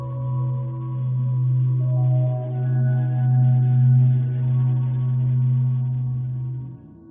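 A low, steady droning hum with faint higher tones shifting above it, sonified from the sun's oscillations, sustained and smooth for several seconds before cutting off.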